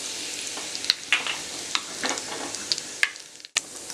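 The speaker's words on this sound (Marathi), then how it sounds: "राई आपली तडतडली आहे. आता आपण जिरं घालूया, त्यानंतर कढीपत्ता." Mustard seeds, cumin, curry leaves and asafoetida tempering in hot oil for a Goan-style onion-tomato curry, giving a steady close sizzle with scattered sharp crackles and pops throughout.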